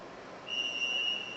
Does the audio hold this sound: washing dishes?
no